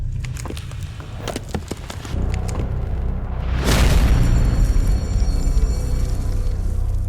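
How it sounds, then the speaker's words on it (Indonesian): A holy bell explodes: a deep rumbling boom builds and swells into a sustained blast, with scattered sharp pops before it. "Lonceng suci itu sepertinya akan meledak."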